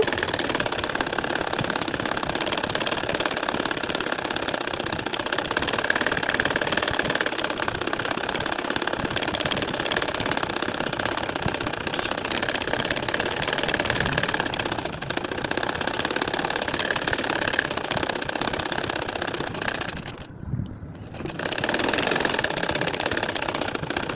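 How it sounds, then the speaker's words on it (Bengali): An ordinary sewing machine stitches a line on a nakshi kantha quilt, a continuous, fairly loud mechanical whir that runs steadily for over twenty seconds, pausing briefly near the end before resuming. "একইভাবে আরও একটা লাইন আমি সেলাই করে নিব"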